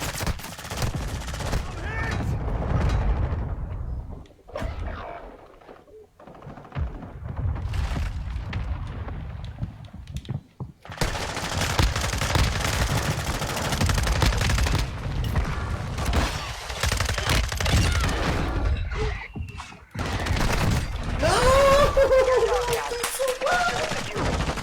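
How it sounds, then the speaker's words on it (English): Video game battle with bursts of rapid gunfire and booming mortar impacts, loud and near, broken by brief lulls and a final sharp crackling burst, mixed with the game's radio voice and players talking. "Hostile mortar strike near your position."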